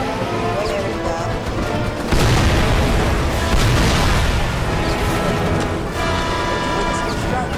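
A loud, sustained blast roars as a tank is destroyed in the video game Mercenaries 2, with a heavy boom near the two-second mark and rumbling debris that stays dense throughout.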